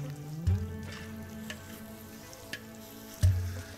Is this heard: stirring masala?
yes